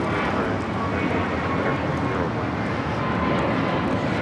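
American Airlines A321neo taking off at LAX, a broad continuous jet engine roar, loud and steady throughout with no other distinct sounds.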